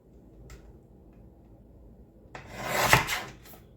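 A paper trimmer cuts printed photos in half for a scrapbook layout. Faint handling noises come first, then one close, rising scrape of the blade sliding through the paper with a sharp peak near the end.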